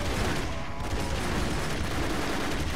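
Dense gunfire from the Broforce video game keeps up a steady, unbroken roar of rapid shots and explosions, loud and close throughout.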